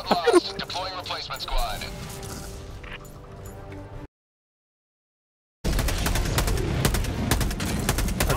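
Rapid turret gunfire in the video game Helldivers 2, a dense burst of shots with a voice over it, then a short drop to silence before sustained loud firing resumes.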